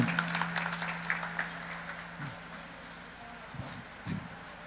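Audience clapping to honour an Indian Army soldier at the opening of a bhajan competition and kirtan festival, a moderate burst of applause that fades under a voice speaking over a microphone.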